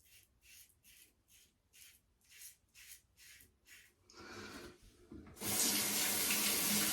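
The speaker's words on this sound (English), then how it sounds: "the amount of which you have to end up rinsing out your razor" A bathroom tap runs while a razor is rinsed during a wet shave: a series of short, evenly spaced scraping strokes gives way to water spilling, then a loud, steady gush of the faucet close by.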